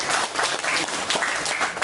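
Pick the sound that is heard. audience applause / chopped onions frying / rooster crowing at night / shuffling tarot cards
audience applause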